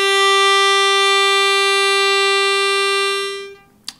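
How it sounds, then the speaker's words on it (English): Harmonica draw note on the two hole, played by breathing in, a single steady reedy tone held for about three and a half seconds, fading out and ending with a short click, no talk. "Of course, I'm talking about breathing in on the harmonica."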